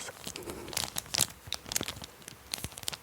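A pouch of stickers is handled up close, with soft crinkling, rustling and small tearing-like crackles in irregular bursts, quiet and intimate with no talking.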